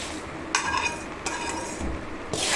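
Spoon stirring hot tempering through puffed rice for mamara chevdo, a few close scraping, rustling strokes against the pot with light clinks, brief pauses between them.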